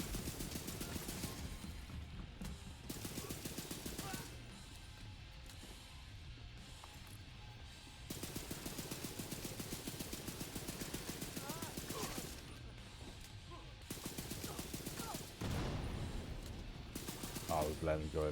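Steel & Sons exotic ACR rifle in The Division 2 firing in long, rapid bursts separated by short pauses, with other game sounds and a voice talking underneath.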